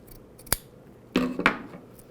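Scissors snip through velcro during hand-sewing of a pincushion: a sharp single cut, then a longer crunchy, rasping cut a moment later, close and alone with no talking.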